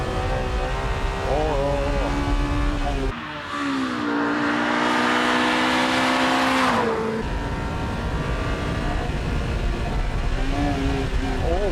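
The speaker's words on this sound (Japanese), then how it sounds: "なんじゃこのエンジン、すごいなこれ。" A 1997 Honda Civic Type R EK9 engine revs hard while driving on a wet track, loud and close from inside the car, climbing in pitch through the gears with brief drops at each shift.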